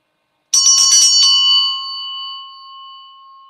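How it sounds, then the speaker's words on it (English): A single bright bell struck once for spiritual energy clearing, opening with a sharp metallic strike and a few quick shimmering hits before a clear ringing tone sustains and slowly fades, loud and close with no talking. "Bells are great. It's an instant clearing of the energy."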